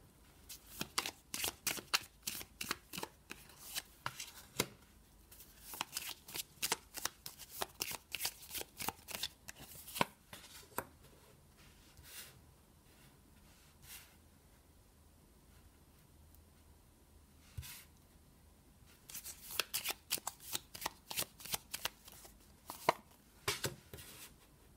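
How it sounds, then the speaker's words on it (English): Tarot cards riffled and shuffled by hand in repeated crisp bursts of flicking, close and alone, with a quieter pause in the middle before the rapid shuffling resumes. "So I'm going to go ahead and shuffle these cards"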